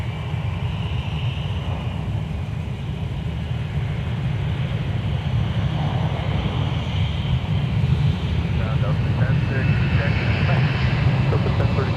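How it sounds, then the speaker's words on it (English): A Boeing 757 departs runway 12 right at Minneapolis–St. Paul airport with a steady, broad jet roar. The roar builds gradually across the whole span, and a person speaks over it. "we got a 757 departure on 12 right"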